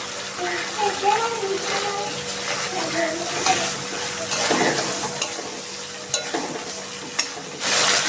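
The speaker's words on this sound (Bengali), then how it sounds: "এর মধ্যে এবার আমি দিয়ে দিচ্ছি চিংড়ি মাছগুলো" Prawns hit a hot pan of cooking spices with a splash of water, giving a steady close sizzle broken by the clicks and scrapes of stirring.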